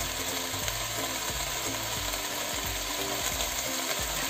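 Beef with bell pepper and carrot sizzles in a pot over medium heat while being stirred, a steady loud frying hiss with repeated low scraping and knocking strokes from the stirring.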